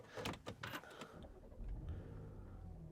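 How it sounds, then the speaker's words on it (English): A 2015 Audi S5 3.0 TFSI S tronic quattro starts up after a few clicks and chimes, the engine catching and settling into a low, quiet idle from inside the cabin. "key in ignition, vehicle starts"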